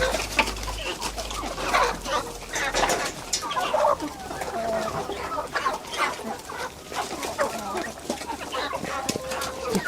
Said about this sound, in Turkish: Tavuklar ziyafet çekiyor arkadaşlar